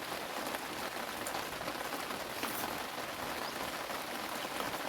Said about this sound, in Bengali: ও এই বৃষ্টি পড়ছে মেঘলা দিন, আর বৃষ্টি পড়ছে